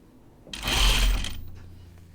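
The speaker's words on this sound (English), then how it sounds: "And I just sew it as I straighten it little by little." A sewing machine runs a short burst of stitching along a shoulder seam, whirring up loudly for about a second and then winding down, with no talking.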